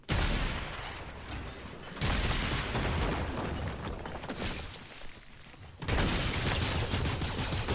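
Rapid, dense gunfire from a wall-hacking, aimbot-equipped shooter game, a continuous rattling fusillade that runs loud for several seconds, eases briefly, then surges again, with no talking.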